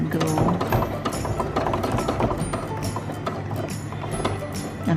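A sewing machine stitches webbing for a school sewing project, running as a steady, close mechanical ticking and rattling hum with a few small clicks throughout.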